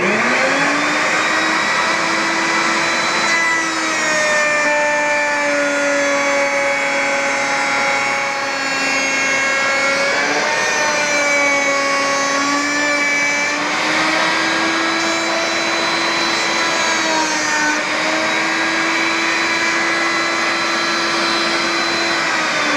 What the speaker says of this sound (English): So to turn the router table on, I have my switch down here.